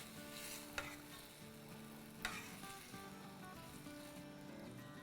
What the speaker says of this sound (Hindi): अब एट दिस पॉइंट हम लोग चिकन डाल देते हैं। अच्छे से मिला लेंगे।